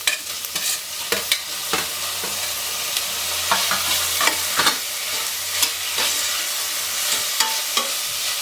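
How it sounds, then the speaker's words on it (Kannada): Ginger garlic paste and chopped tomatoes fry in a pan, with a steady sizzle and repeated scraping stir strokes from a spoon, close and fairly loud, no voices. "ನಾನಿಲ್ಲಿ 1 ಸ್ಪೂನ್ನಷ್ಟು ಜಿಂಜರ್ ಗಾರ್ಲಿಕ್ ಪೇಸ್ಟ್ ಹಾಕ್ತಿದ್ದೀನಿ. ಸ್ವಲ್ಪ ಫ್ರೈ ಮಾಡ್ಕೊಳ್ಳೋಣ."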